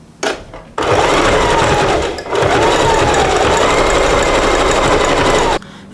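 A sewing machine runs loud and close while stitching a headband, with two fast bursts broken by a short dip, then cutting off sharply.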